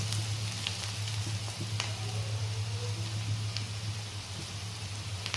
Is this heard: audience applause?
no